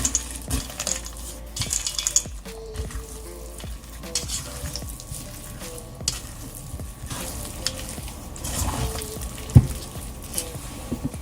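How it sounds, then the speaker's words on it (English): A utensil stirs chocolate chips into thick zucchini brownie batter, giving soft, wet scraping and squelching sounds with occasional clinks against the bowl, a quiet, irregular rhythm with no voices. "Once you have the chocolate chips inside, you're going to stir them all together."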